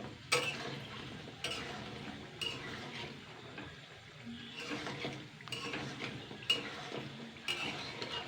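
Pieces of kneaded wheat dough fry in a pan, with repeated scraping and clattering of a utensil against the metal at a steady pace over a soft background sizzle.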